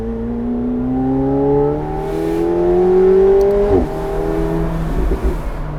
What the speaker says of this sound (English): This car makes so much noise coming out the back.